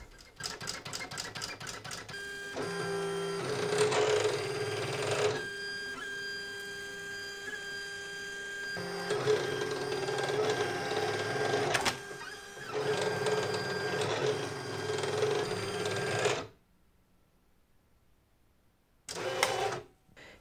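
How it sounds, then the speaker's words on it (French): A Silhouette cutting machine cutting a small paper box runs in long whirring, buzzing passes with short pauses, close and steady, falling silent near the end apart from one brief final burst. "Et je lance à nouveau ma machine pour qu'elle me découpe ma petite boîte."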